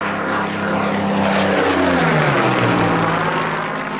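A Spitfire fighter with a Rolls-Royce Merlin engine roars loud and close, its propeller drone swelling and sliding lower in pitch as it sweeps past, alone without voices.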